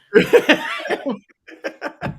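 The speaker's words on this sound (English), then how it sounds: "This nasty cough for a week" A few rough, close coughs in quick succession, followed by a brief pause and several shorter, raspy coughs.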